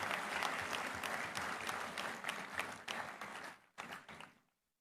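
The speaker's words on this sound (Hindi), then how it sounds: "एक बार जोरदार तालियों के साथ उनका स्वागत और अभिनंदन" Audience applause welcoming a guest at an event at AIIMS Jodhpur, Rajasthan: dense, steady clapping from a crowd fills the room, then breaks off, briefly returns and fades out to silence.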